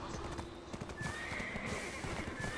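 Horse in the online game Black Desert, quiet clip-clopping hooves in an uneven rhythm with a drawn-out whinny partway through, set against soft ambient game sound and no talk.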